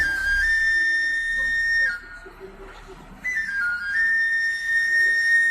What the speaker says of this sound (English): They all play the same notes on a little plastic flute.